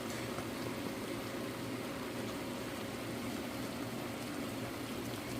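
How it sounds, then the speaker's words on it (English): Cooked spaghetti being drained, a steady, continuous rush of pouring water close by with a bubbling, hissing wash throughout and no voices. "It looks like our spaghetti is ready. So I am going to be draining this."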